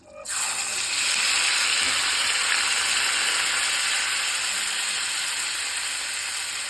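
Dried manathakkali berries hitting hot sesame oil for vatha kuzhambu, a sudden bright sizzle that swells and then holds as a steady, loud, hissing fry close by.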